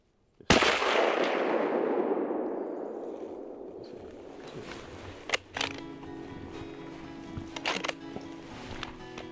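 A single loud rifle shot at an elk on a Michigan hunt, a sharp blast whose echo rolls away for several seconds outdoors, followed by faint rustling and small knocks.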